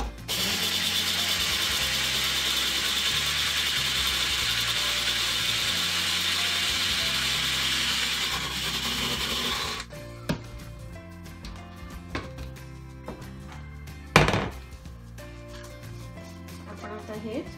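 Mixer grinder whirring loudly and steadily for about ten seconds while grinding soaked urad dal and rice, then stopping, followed by quieter kitchen clatter and a sharp knock.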